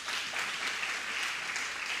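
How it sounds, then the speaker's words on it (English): Steady, dense applause from a seated audience at a university postgraduate research day ceremony, continuous and even throughout with no voices breaking through. "can we please give her another round of applause?"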